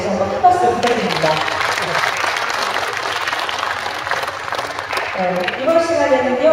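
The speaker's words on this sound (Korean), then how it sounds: "앙상블에게 다시 한번 큰 박수 부탁드립니다" Audience at a book festival in Gunpo applauding an ensemble, sustained clapping from a sizable crowd with a presenter's voice speaking over it at the start and end.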